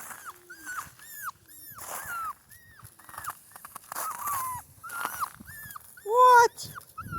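Central Asian shepherd puppy whimpering and whining outdoors in the wind, a series of short, high, rising cries repeated in an uneven rhythm, one louder yelp near the end, with faint growls and background rustle.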